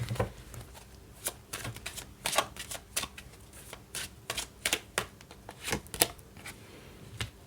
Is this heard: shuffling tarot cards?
yes